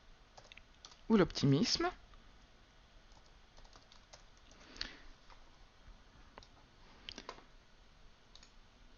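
Computer keyboard typing of a book title into an ebook editor's field, a quick burst of keystrokes early on, then scattered faint taps under quiet talk.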